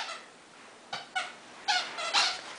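A dog's squeaky toy squeaks in several short, sharp bursts with quiet pauses between, close by and fairly faint, getting more frequent toward the end.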